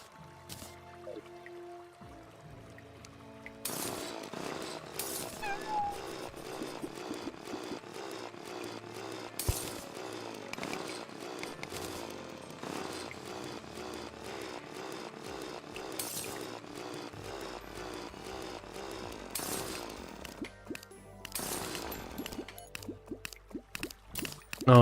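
A drill mines through ore such as titanium in a video game set to hard master mode, giving a steady buzzing grind with sharp bursts at intervals that runs almost unbroken for the whole stretch.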